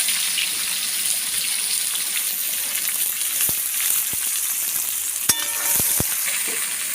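Chopped onion frying in a pan with bay leaf and a little sugar, a steady broadband sizzle throughout with a few sharp clicks and clatters of a utensil near the end.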